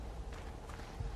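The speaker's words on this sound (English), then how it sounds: "I hear your footsteps." Footsteps in the horror video game Outlast 2, a few soft, muffled steps close by over a low ambient rumble.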